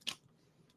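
A single loud crunchy bite into Cap'n Crunch sugary corn cereal, close to the mic, followed by a short stretch of quiet chewing.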